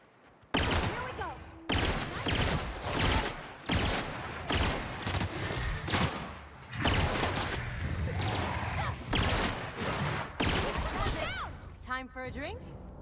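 Gunfire in the sci-fi video game The Outer Worlds during a fight with creatures in a wilderness area, loud repeated bursts of shots in quick succession over most of the clip, with short gaps between volleys.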